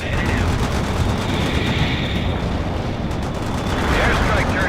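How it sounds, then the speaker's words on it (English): Airstrike explosions in the World in Conflict strategy game form a dense, continuous roar of blasts and rumbling debris, loud and close throughout with no clear gaps. "The airstrike turned target area into dust."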